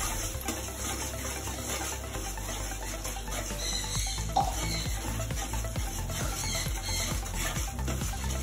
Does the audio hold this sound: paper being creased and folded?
no